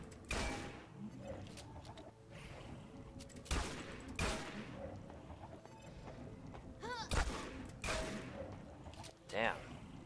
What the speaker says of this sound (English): I'll kill this with my pistol and then I'll go over there and use my shotgun on the other one